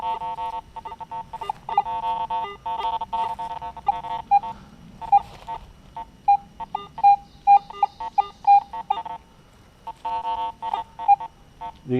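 A metal detector scanning over iron trash gives choppy, broken electronic tones, stuttering bursts that start and stop irregularly with occasional squeals, close and loud over faint outdoor background, no talk.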